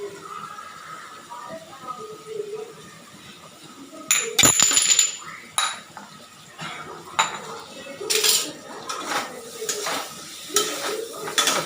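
Spices and ingredients sautéed with salt in a pan, a spoon clanking and scraping against the metal in irregular bursts over a light sizzle, close by, with faint voices in the background.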